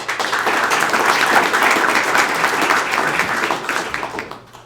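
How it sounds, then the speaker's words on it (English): An audience at a ReactJS Denver tech meetup applauds a presenter with a full, even wash of many hands that holds strong for about four seconds, then tapers off and fades near the end. "please give him a round of applause"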